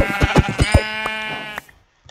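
Sheep in the Minecraft video game bleat in a quick burst of several close, loud calls, followed by one longer drawn-out bleat that fades into quiet.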